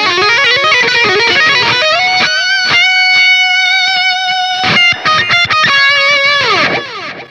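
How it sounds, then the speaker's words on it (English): Electric guitar through distortion pedals rather than amp distortion, on a Line 6 Helix, playing chords and sustained notes, gritty and saturated, loud and alone with no voices. "this was his original tone on that with the distortion pedals instead of the amp"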